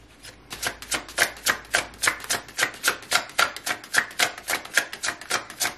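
Tarot cards being shuffled close to the microphone, about twenty crisp, evenly spaced riffling slaps in a steady rhythm of roughly three or four per second, with no talking.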